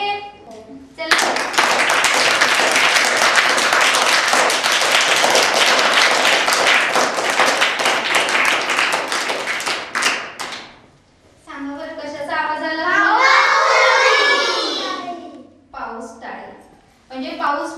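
A classroom of children clap their hands together to imitate rain, a dense sustained patter that starts suddenly, holds steady, then thins out as it fades, followed by children's voices chattering and calling out.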